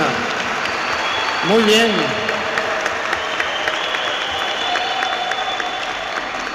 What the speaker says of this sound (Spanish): Un aplauso pues para esta hermana.